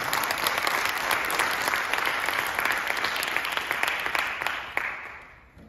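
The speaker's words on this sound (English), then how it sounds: "Let's give a round of applause for our board of directors." An audience at a high school student business pitch night applauds the board of directors, a loud, dense wash of clapping sustained for several seconds before tapering off near the end.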